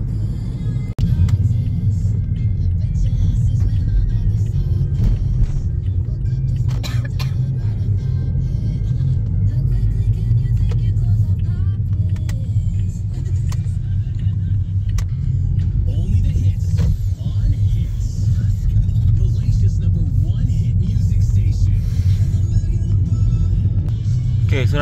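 A Toyota Vios GR-S drives at Sepang Circuit on a Toyota Gazoo Racing track day, heard from inside the cabin as a loud, steady engine drone and road rumble that continues throughout.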